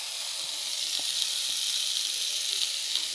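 Food frying in oil on a stove after the flame is turned up, giving a steady close sizzle with faint occasional pops and no talking.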